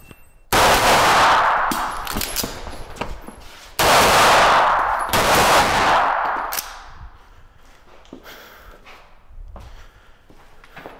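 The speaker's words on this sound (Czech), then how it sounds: "Rány tady z prvního místa, nahned, potom bude reload, přeběhnutí takhle sem" Pistol shots ring out on an IPSC sport shooting stage in rapid loud bursts, two strings of fire separated by a pause, followed by quieter clinks and movement with scattered fainter sounds.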